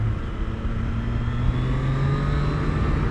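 A Triumph Daytona 765 Moto2 race motorcycle engine runs steadily on a track while its rider warms the tires. It produces a loud, continuous mid-pitched drone with a smooth, even tone throughout.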